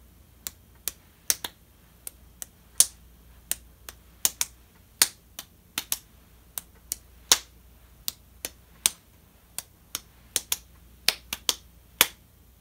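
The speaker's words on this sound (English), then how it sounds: "You let little Liza run through your head while I clap and see if it matches the pattern." A single person claps a song rhythm alone, crisp and close, in an uneven, steady pattern of sharp hand claps that runs for several seconds.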